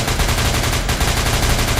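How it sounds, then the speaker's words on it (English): Rapid automatic gunfire in the horror video game SCP Containment Breach, a dense, loud, continuous burst of evenly spaced shots with no pauses. "Normally you're supposed to run away from the gunfire, not towards it."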